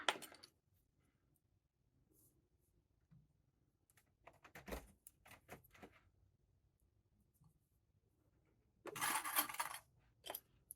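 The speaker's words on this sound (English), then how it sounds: "I'm going to match those up and clip them together." Sewing clips snapped onto fabric pieces, a few scattered small plastic clicks and taps, close and quiet, with a brief rustling burst of fabric handling near the end; no talking.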